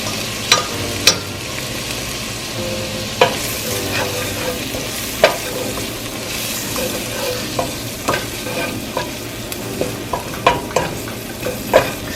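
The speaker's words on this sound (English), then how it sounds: "It will seem to be a little grainy, but continue to stir, bringing in all the flavors, guys." A tablespoon of curry powder frying in oil for coconut curry chicken, stirred with a spoon; a close, continuous sizzle broken by sharp scrapes and taps against the pan.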